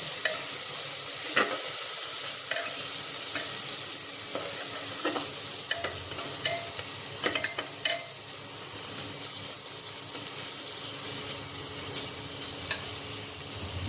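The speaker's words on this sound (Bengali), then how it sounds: "গ্যাসের ফ্লেমটা মিডিয়ামে রেখে মশলাটা কষে নেব" Masala seasoned with Kashmiri chilli powder and green chillies fries in a pan over a medium flame, giving a loud, continuous sizzle broken by repeated scraping strokes of stirring, with no voices.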